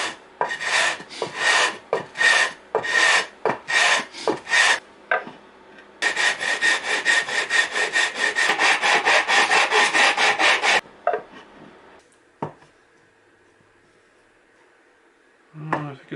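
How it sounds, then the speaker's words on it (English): Wood is sanded by hand on 120 and 220 grit sandpaper glued to MDF: a few separate raspy strokes, then a long fast run of back-and-forth rubbing, then scattered quieter scrapes and knocks, up close. "take some sandpaper and glue it to a piece of MDF and try it again"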